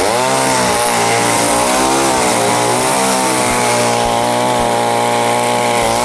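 A chainsaw runs loudly and continuously at close range, its engine drone rising and falling slightly in pitch throughout, used for a juggling act.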